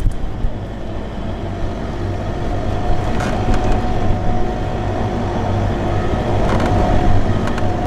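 A 4x4 vehicle drives across Mauritanian desert sand during a rally raid, its engine producing a loud, steady low rumble with cabin vibration and occasional rattles throughout.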